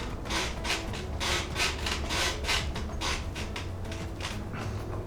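A wrench works a large nut loose on a Harley FXBB during a mag conversion, giving a steady rough rasping, scraping grind in repeated strokes, close and alone with no talk.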